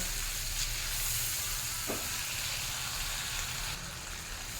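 Poppy seed and cashew paste fries with spices in oil for a garlic butter chicken curry, giving a steady close sizzle with a brief stir scrape partway through and no voices.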